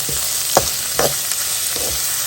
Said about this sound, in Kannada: ಈರುಳ್ಳಿ ಸ್ವಲ್ಪ ಕಲರ್ ಚೇಂಜ್ ಆಗುವವರೆಗೆ ಇದನ್ನು ನಾವು ಹುರ್ಕೋಬೇಕಾಗತ್ತೆ